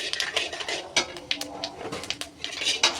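Fenugreek and fennel seeds stirred in hot oil in a cooking pan, a busy run of close scraping and metallic clinks from the spoon against the pan, steady and without speech.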